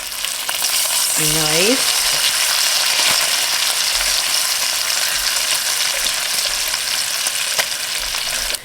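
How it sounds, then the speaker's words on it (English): Bacon fries in a pan with a dense, loud, even crackling sizzle throughout, near and steady, while a voice briefly speaks a single word early on. "We're starting to get our bacon cooked."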